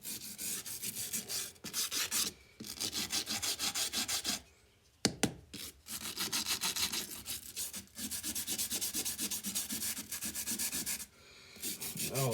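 Rust is sanded off a metal bench vise during a restoration, a loud continuous abrasive rubbing in long strokes broken by brief pauses, close up with no talk.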